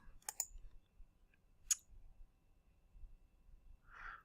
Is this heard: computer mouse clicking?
yes